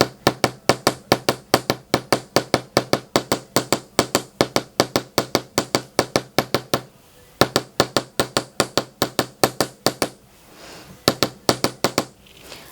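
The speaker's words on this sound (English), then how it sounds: "Now I can stop right here by hammering along the curve" A metal hammer taps repeatedly along a curved wire craft component, hardening and flattening it: a steady, fast run of sharp, close knocks with two brief pauses, no talking.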